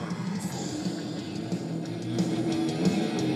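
Heavy metal recording with thick, loud bass, distorted guitar and drums, a dense sustained wall of sound playing steadily throughout.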